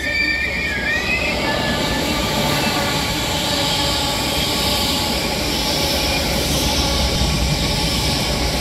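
Class 315 electric multiple units at Chadwell Heath station, a steady loud rumble of wheels and traction running throughout, with a high squeal of wheels on rail early on and no talk.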